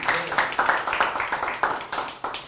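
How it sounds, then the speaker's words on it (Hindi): An audience gives applause welcoming Captain Digendra Singh, a Kargil war veteran, with a moderate spread of hand claps carrying on steadily at mid distance, slightly uneven in rhythm. "हमारे बीच में मौजूद हैं कैप्टन दिगेंद्र सिंह, बहुत बहुत स्वागत है आपका, तालियों से।"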